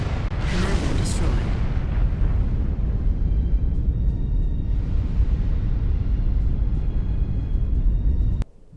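A commander unit blowing up in the Supreme Commander 2 video game: a loud booming blast that settles into a long, heavy rumble lasting several seconds before cutting off abruptly.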